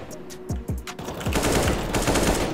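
Rapid gunfire in the video game CS:GO, a quick burst of loud close shots followed by a dense rattle of sustained automatic fire.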